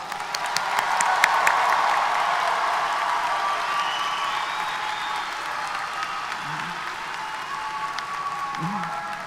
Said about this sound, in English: Everyone, let's give these new alumni a round of applause.